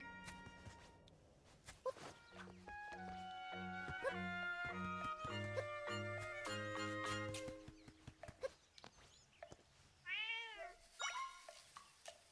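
A cat meows in The Legend of Zelda: Echoes of Wisdom, game music playing throughout, then a run of short rising meow chirps near the end over a quieter background.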